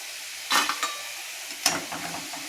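Onion pakoda frying in oil makes a soft, steady sizzle, broken by two sharp bursts of clatter and spattering from a utensil moving the fritters. The sound is close and there is no talk.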